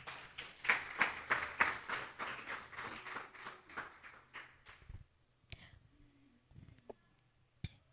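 A church congregation claps for about five seconds, loud and close at first and then fading. After that a few scattered taps and small sounds break a near silence.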